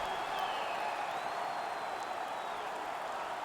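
A Red Deer hockey arena crowd roars with relieved cheers and applause after a goal in a playoff game against Chicoutimi, a steady, broad wash of noise that fills the whole stretch.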